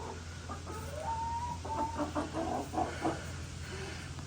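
Chickens clucking in a coop run on a homestead, a steady string of soft hen clucks and calls, fairly close, with no voices.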